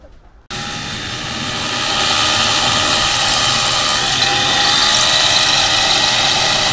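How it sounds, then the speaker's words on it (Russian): An Interskol cordless rotary hammer drills into a silicate block wall on building scaffolding, starting abruptly and then running as a steady, loud, close mechanical whine and hammering that builds slightly and holds to the end, with no talk. "Перфоратор на аккумуляторах Интерскол."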